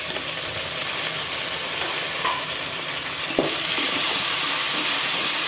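Chopped tomatoes hit browned onions frying in a pan for a Tamil vendakai puli kuzhambu, raising a loud, steady hiss and sizzle with a brief stir or clatter partway through.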